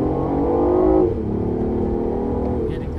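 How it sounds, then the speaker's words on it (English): BMW i8 hybrid supercar accelerating, electric motor torque followed by the rear turbocharged engine, a loud rising engine note that swells then drops and settles into a steady drone. "the instant torque from the electric motor kicks in first, then the power comes on tap from the turbocharged motor in the back"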